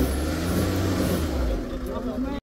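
Mahindra Scorpio N automatic straining on an off-road slope in Lonavla, its engine a steady, loud low drone that holds for about two seconds and then cuts off abruptly.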